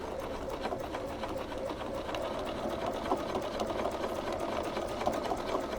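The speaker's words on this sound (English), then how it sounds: "I'm going to put my needle down, stitch a little. I'm going to back stitch just to make sure." A sewing machine stitches a holiday bench pillow cover, including a short backstitch at a 1/4 inch seam, running as a steady, continuous mechanical whir from start to finish with no talking.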